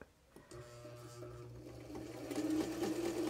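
A vintage sewing machine runs with its foot pedal pressed, a steady mechanical whir and hum that starts after a brief pause and grows louder and busier toward the end.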